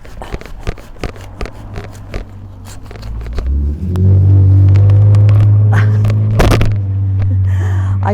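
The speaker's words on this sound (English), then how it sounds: "I think that was a loud truck going by." A loud truck drives by outdoors, its heavy rumble swelling in about halfway through and staying strong, layered over close crackling and rustling from garden work with hostas.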